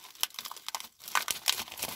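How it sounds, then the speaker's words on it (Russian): A plastic zip-lock bag crinkles and rustles as a cup holding a petunia cutting in perlite is slipped inside, with irregular close crackling bursts and brief pauses. "Помещаем его в индивидуальный такой пакетик с замочком."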